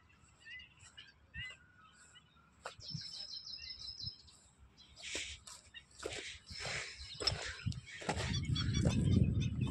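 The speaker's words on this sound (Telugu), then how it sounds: "చాలా పక్షులు అయితే ఉన్నాయి, ఆల్రెడీ సౌండ్స్ వినిపిస్తూ ఉన్నాయి." Many birds chirp and call outdoors at a pond in Nagole, Hyderabad, some near and some distant, with brief voices and rustling, then a low rumbling noise building at the end.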